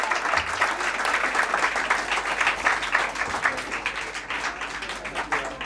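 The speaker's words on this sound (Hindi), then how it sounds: "जोरदार ताली" Students of Rama Krishna IAS Academy give loud, continuous applause at a farewell gathering, a thick wash of clapping that holds steady from start to finish.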